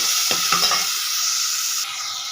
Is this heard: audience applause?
no